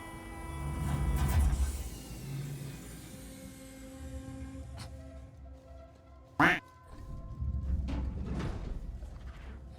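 Duck quacking in the horror game Alien Isolation, a single sharp loud quack standing out over a low rumbling, humming machine-like background.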